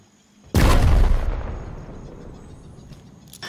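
A frag grenade goes off in Predator: Hunting Grounds, a single loud, close boom with a broad blast that rolls into a long, fading rumble, ending in a faint rattle of distant gunfire.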